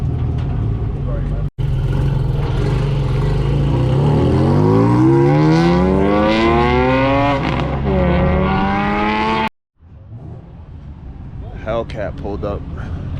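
A Dodge Hellcat pulls up at an early-morning cars and coffee meet, its engine loud and close with a deep, rising and falling rumble over several seconds, then dropping away, while people talk nearby.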